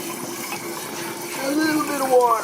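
Water poured into a beer brewing vessel, a short trickling, filling pour that rises slightly in pitch toward the end, close and fairly steady.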